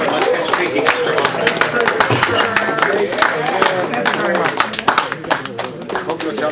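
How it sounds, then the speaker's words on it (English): An audience claps steadily to welcome a speaker at a lecture event, dense close applause with scattered sharp hand claps running throughout, while a voice talks over it. "Let's all give a rousing round of applause for Mr. Scott Hoffman."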